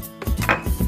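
A knife chops rolled spiral noodle dough for Dan Dan noodles in a few quick, close thuds on a board, with no talk.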